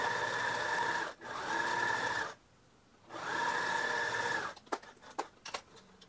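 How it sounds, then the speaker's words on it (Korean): A sewing machine runs a line of stitching on a cotton T-shirt in steady whirring bursts, pausing briefly twice, then ends in a few clicks and knocks close by. "한 줄 더 박아주세요"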